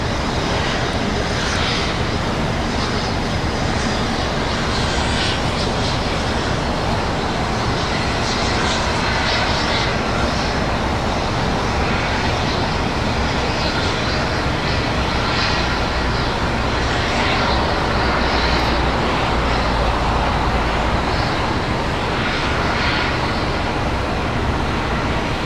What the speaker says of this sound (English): we got an Exec jet headed down that way